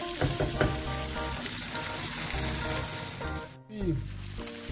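Mussels and small cuttlefish for a fish and seafood paella sizzle steadily in a hot pan, a loud continuous frying hiss with brief stirring and scraping near the end.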